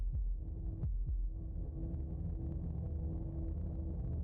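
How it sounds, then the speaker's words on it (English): Heartbeat sound effect from the video game Slay the Princess: slow, deep throbbing thumps repeating steadily over a low hum, close and heavy, with no voices. "That was the sound of a heartbeat,"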